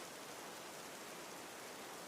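Steady rain falling, a soft, even hiss of dense drops with no distinct impacts, constant and faint throughout.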